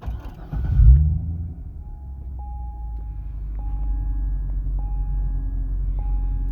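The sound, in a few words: Corvette engine starting and idling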